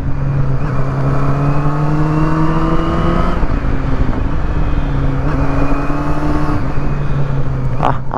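A Honda CB400SB 400cc motorcycle engine hums steadily while being ridden, loud and close, with its pitch rising gradually, a brief dip in revs, then a climb again under heavy wind rush.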